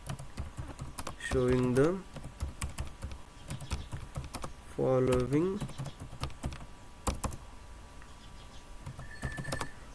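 Rapid clicks of typing on a computer keyboard, faint and scattered, run beneath a voice that speaks in two short bursts.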